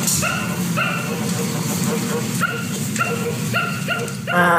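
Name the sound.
possessed Mickey Mouse toy growling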